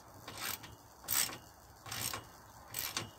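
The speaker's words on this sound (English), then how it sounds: "So I just need to tighten up all these bolts." Bolts on a walk-in brassica fruit cage frame are tightened with a ratcheting tool, four short rasping clicks in bursts with quiet pauses between them, close and fairly faint, with no talking.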